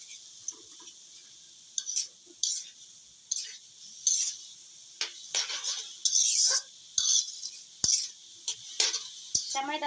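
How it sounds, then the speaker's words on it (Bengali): Vermicelli cooking in a pot is stirred repeatedly, with rhythmic scraping and clinking of a spoon against the metal and a soft sizzle underneath throughout. "এটাকে এখন ভালো করে নাড়বো।"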